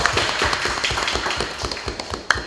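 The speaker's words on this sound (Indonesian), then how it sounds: "Kita kasih tepuk tangan dulu teman Pro 2" Students at a high school in Tarakan clap for a geography olympiad winner, a dense burst of applause with distinct sharp claps, close and moderately loud, no talking over it.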